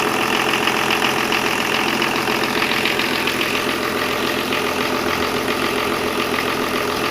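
BMW 324 car engine idling with an intermittent misfire fault, a steady close mechanical whir and clatter holding an even pitch throughout, loud and alone with no talk.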